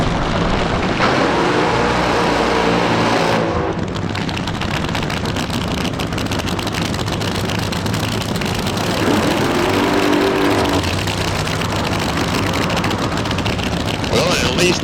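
Funny car drag racing at the Boise Nostalgia Ignitor, a loud continuous engine roar filling the whole stretch, with shifts in tone partway through and a commentator talking over it.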